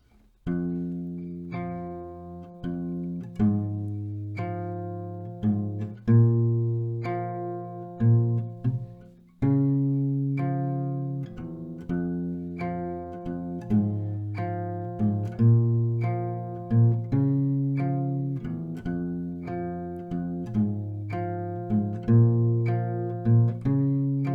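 An acoustic guitar strums a repeating chord progression from a song in a steady rhythm, with ringing chords that carry on without pause and no voices.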